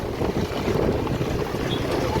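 Water rushes through the Kantilanso sluice gate in Assam as a steady, loud broadband roar, heard alone with wind buffeting the microphone throughout.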